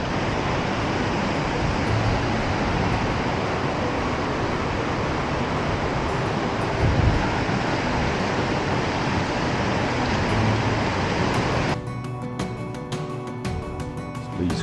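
Creek water flows steadily in the Wairau river valley of Marlborough, New Zealand, running high after recent rain. A dense, continuous rush fills the scene and thins to a quieter, patchier trickle near the end.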